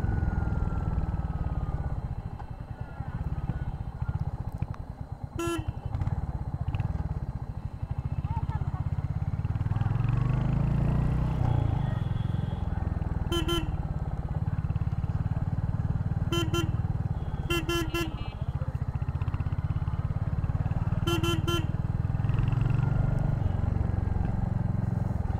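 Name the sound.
Royal Enfield Hunter 350 motorcycle riding in traffic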